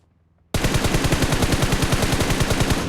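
Sustained automatic gunfire from the battle royale game BGMI starts abruptly after a moment of quiet, a loud, rapid, evenly spaced burst of shots that continues without pause.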